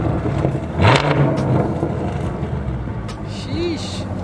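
A car with a freshly installed aftermarket exhaust, on a Lexus, rumbles and revs briefly nearby as people talk and cheer over it in the background.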